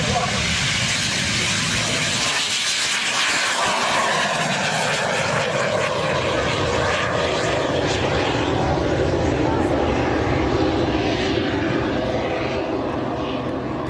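Rocket Racing League rocket plane flying at AirVenture Oshkosh 2008, a loud, steady jet-like roar with hiss that holds throughout, close and continuous, with faint voices underneath.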